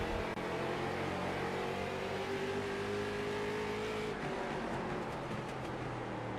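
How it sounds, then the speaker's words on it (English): A late model race car engine in a sim race at Myrtle Beach drones steadily and loud throughout, its pitch sliding as the throttle eases and the driver downshifts into a corner, with no talk over it. "You can hear that throttle kind of downshifting in and how he's trying to turn it in and corner it off there"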